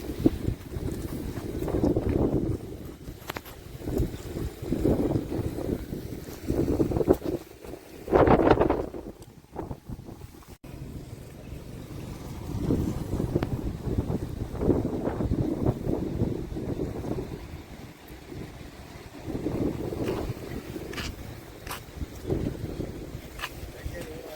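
Gusty wind buffets the microphone beside a rough, turbulent sea off Jaffna, with surging rumbles of waves rising and falling throughout, fairly faint and steady.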